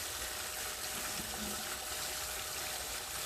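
Water gushing steadily through a Gold Fox mini and a Gold Cube gold concentrator, pumped at full flow, a continuous broadband rush with a faint hum beneath, close and unbroken throughout.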